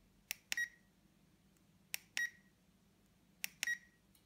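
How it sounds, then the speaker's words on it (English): An ElectraStim EM48 remote transmitter and receiver beep while linking: three pairs of short electronic beeps repeat at regular intervals, a quick chirp followed by a slightly longer tone, clear and fairly quiet over near silence. "when we use the transmitter, we should get some beeping and a full communication link"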